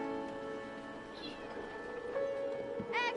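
A cat in the Red Dead Redemption video game gives a few faint, high whining meows above a low steady hum, the last one clearest near the end.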